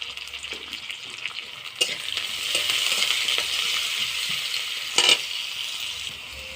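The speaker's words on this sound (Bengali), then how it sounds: "আমার পেঁয়াজ কুচিটা ভালো করে বাজি ভাজি হয়ে গেছে" Chopped onions sizzle in a pan for shrimp brain bhaji, a steady soft crackle with occasional stirring clinks and scrapes, one sharper metallic knock near the end.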